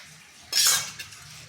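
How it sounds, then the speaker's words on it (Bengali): A bowl of water is poured into a semolina and curd batter, a short splashy gush lasting under half a second followed by a faint clink, close and otherwise quiet. "দিয়ে দিচ্ছি 1 বাটি জল।"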